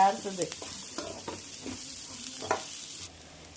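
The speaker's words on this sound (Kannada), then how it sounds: "ಈ ಕಡೆ ಫ್ರೈ ಆಗ್ತಿದೆ ಸಾಂಬಾರಿಗೆ" Ingredients for sambar fry in a pan with a soft, steady sizzle and occasional stirring knocks, heard up close at moderate volume with no one talking.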